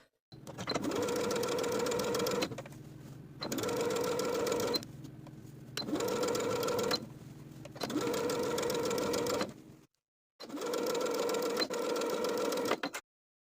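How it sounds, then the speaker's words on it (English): A sewing machine understitches bias binding to the seam allowance on a colorblock garment, running in five steady bursts of rapid stitching separated by short pauses. "Understitch the binding by sewing the binding to the seam allowance underneath, with an 1/8 of an inch seam allowance all the way around."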